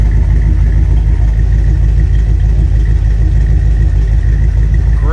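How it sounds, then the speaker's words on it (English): A 1951 Ford Country Squire woody wagon running close by, its exhaust a loud, steady, low rumbling drone without pause or talk. "Great exhaust notes coming out of those pipes."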